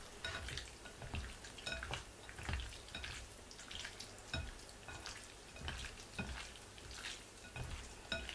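Vegetables stir-frying in a pan with light soy sauce and peanut oil, a steady soft sizzle broken by repeated clinks and scrapes of a utensil stirring against the pan, with no talking.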